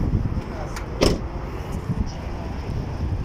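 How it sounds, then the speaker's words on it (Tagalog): A car door is shut once near the start, a short close thud with a brief rattle, followed by faint movement around the parked vehicle in a quiet outdoor village setting. "Sarado ko lang yung pinto."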